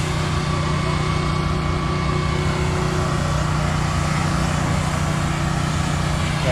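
A steady engine rumble with a low, throaty exhaust drone, continuous and fairly close, no talking over it.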